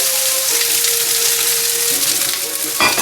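Rice and egg fry together for egg fried rice, giving a loud, steady sizzle close by, with a brief stirring scrape at the end.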